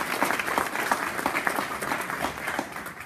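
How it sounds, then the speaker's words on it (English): Audience at a Safe Families Resource Center celebration applauding: a steady wash of many hands clapping at moderate distance, sustained for several seconds without pause. "I want to give them a round of applause for the work that"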